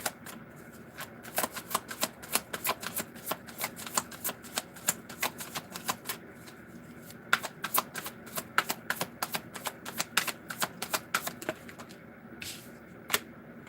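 Tarot cards are shuffled in a long run of quick, crisp riffling clicks and flutters, close and fairly quiet, with brief pauses between bursts and no talking.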